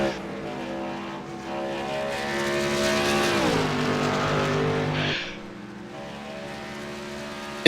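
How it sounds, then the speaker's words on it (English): Race cars roaring out of the turns on an oval track, engines loud and close with a rising then falling pitch as they pass, the sound dropping off sharply near the end. "Struggling with a pretty loose car coming out of the turns."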